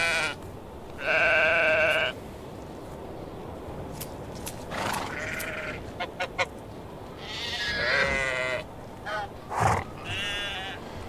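Sheep in the video game Medieval Dynasty bleating repeatedly, several drawn-out calls spaced across the stretch, clear and fairly close over a faint background hiss.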